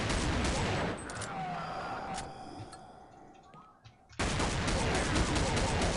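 Desert Eagle Crimson Hunter pistol fire in Counter-Strike Online, loud dense shooting and game effects that fade to a quieter stretch with scattered ticks, then surge back to heavy firing.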